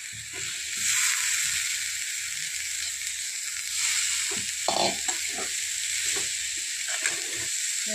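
Bitter gourd pieces fry in a hot pan with oil and spices, a broad steady hiss with intermittent scraping stirs and clacks of a spatula, close and continuous.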